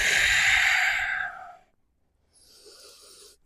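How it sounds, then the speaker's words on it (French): A slow, audible exhale during a yoga vinyasa flow: a strong breath out that fades over about a second and a half, then a softer airy breath follows after a short pause, close and alone. "Et j'expire"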